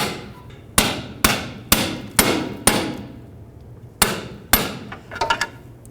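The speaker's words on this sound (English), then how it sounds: "I'm going to put it right on the clamp and then take a hammer and just hammer it off." A hammer strikes a pry bar held against a single-use boot clamp on a 2007-2009 Saturn Aura bellows boot, giving seven sharp metallic blows at an uneven pace with ringing decay and a flurry of lighter taps at the end.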